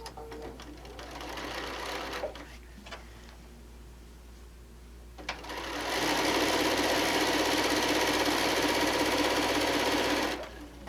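A sewing machine stitches through a quilt in two runs, a short burst followed by a quieter pause, then a longer, louder stretch of fast, steady mechanical whirring and ticking close by.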